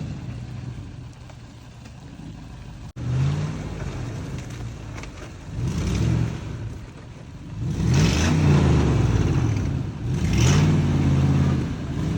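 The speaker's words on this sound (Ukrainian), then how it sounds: "Ще один челенджер мчить на допомогу." A Dodge Challenger engine revs in repeated swelling bursts, loud and fairly close, rising and falling several times against a steady outdoor rumble.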